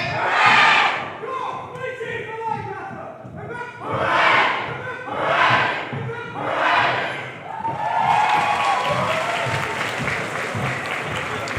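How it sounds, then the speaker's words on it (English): Fencing teams from Lancaster and York trade three rounds of hip-hip-hooray at a university Roses match, the group roars swelling in regular bursts, ending in sustained applause and cheering from the crowd. "So that was a lovely 3 cheers from both teams to each other."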